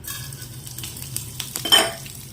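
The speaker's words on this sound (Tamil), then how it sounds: "தயிர் சாதத்துக்கு ஒரு சின்ன தாளிப்பு கொடுத்துடலாம். வெங்காயம் கடுகு, உளுந்து, கருவேப்பிலை, ஒரு பச்சை மிளகாய்" Onion, mustard seeds, urad dal, curry leaves and green chili crackle in hot oil as a tempering for curd rice, a brisk close sizzle with stirring clinks and a sudden louder hiss near the end.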